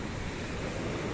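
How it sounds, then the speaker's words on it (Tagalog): Sea waves wash onto the rocky shore of Long Beach in Cavite City, a continuous close, loud surf roar mixed with wind buffeting. "Ayan, ang alon."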